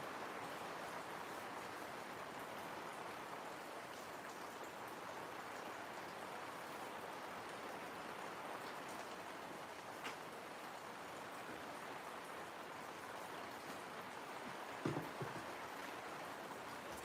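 A constant hiss of heavy rainfall pours on without letup, with a faint low thump near the end.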